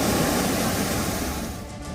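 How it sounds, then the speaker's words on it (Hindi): Strong wind and high sea waves on the Navsari coast of Gujarat make a steady, loud broadband roar of surf and gusts that fills the whole clip and eases slightly toward the end. "नवसारी में तेज हवाएं चल रही है और समुद्र में ऊंची लहरें उठ रही हैं।"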